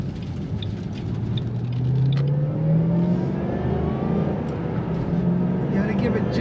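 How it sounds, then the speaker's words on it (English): A 2007 Ford Mustang Shelby GT500 with a 6-speed manual rumbles and revs steadily up and down in pitch while driving, recorded close, with a whirring drivetrain underneath. "Today we're driving a 2007 Ford Mustang Shelby GT500 with a 6-speed manual transmission"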